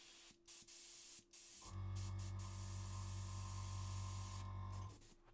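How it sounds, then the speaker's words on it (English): Close airbrush spraying thinner or cleaner through the nozzle before paint: a few faint ticks, then a steady, loud hiss lasting about three seconds before cutting off. "that first spray where you see is like my thinner or my cleaner coming out of my brush"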